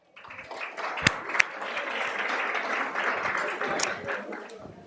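Audience applause at a school district State of the District event for a high school cheer team, a sustained wash of clapping with a few sharp close claps and some voices mixed in.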